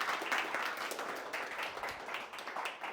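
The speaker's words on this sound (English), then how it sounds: "Round of applause for Femi and Sweet" Steady applause from an audience at a startup pitch showcase, a fairly faint, continuous patter of many hands clapping with no talk.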